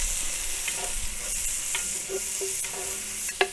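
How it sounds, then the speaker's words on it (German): Onions braising in melted butter in a Dutch oven, a constant loud sizzle with occasional clicks and scrapes of stirring, close and without talk. "Jetzt geben wir unsere Zwiebeln hier mit rein und schmoren die uns jetzt erstmal ein bisschen mit an."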